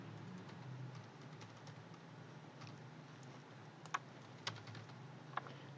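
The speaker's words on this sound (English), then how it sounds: "We type" Someone types data into a VB.NET program on a computer keyboard. A few soft, scattered keystrokes tap out over a very quiet room, with several sharper clicks near the end.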